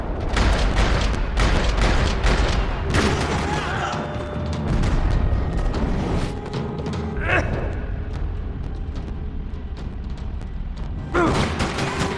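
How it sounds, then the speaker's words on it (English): Gunfire in a parking lot in the Max Payne 3 video game: rattling bursts and sharp shots with booming impacts, loud and dense at the start. The shooting thins into scattered reports and debris noise before one more burst near the end. "Another parking lot rattling with gunfire."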